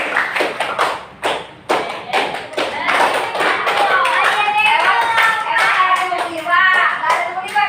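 A class of students claps out a rhythmic pattern together, sharp hand claps in quick groups at first, then children's voices join in over continued clapping.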